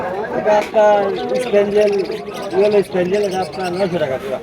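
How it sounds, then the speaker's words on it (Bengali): Budgerigars for sale at a busy outdoor bird market in Savar, Bangladesh, chattering and warbling in quick, bright bursts close by, mixed with cooing and chirps from other caged birds. "এই জায়গায় দেখেন প্রচুর বাজিকার আছে"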